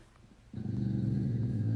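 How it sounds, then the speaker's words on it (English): A low, continuous dog growl starts abruptly and rumbles on steadily, close and moderately loud, with no talking. "she's never heard her dog growl before until now"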